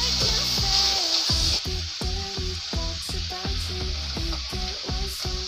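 Shredded boiled chicken fries with onion and ginger-garlic paste in a pan, giving a steady close sizzle broken by a regular series of scraping stirs, with faint tonal sounds underneath.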